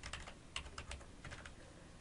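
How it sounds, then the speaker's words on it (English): Rapid light clicks of fingers typing a password on a computer keyboard, a quick irregular patter of close, faint keystrokes with no talking. "type your new password, press Enter, and type it again to confirm"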